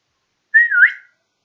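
A single person whistles a short rising-then-wavering note, close and clear, lasting about half a second in otherwise silent surroundings.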